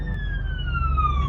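A fire truck siren wails steadily and clearly throughout, its sweeping tone slowly falling in pitch over a low rumble of passing traffic, with no talk.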